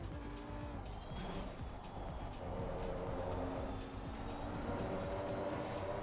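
A mid-engine Lamborghini racing car in the ACC simulator at Zandvoort, a steady engine drone with faint tire noise. Quiet regular ticks sound through the run, with no voices.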